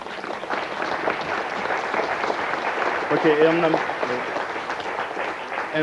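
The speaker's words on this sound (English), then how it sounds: "Why don't you give yourselves a little round of applause?" A small group of children applauds themselves at the Ariane 504 launch event, a moderate, continuous patter of clapping mixed with cheering and voices talking over it throughout.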